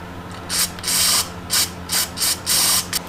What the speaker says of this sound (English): Spray through the overflow.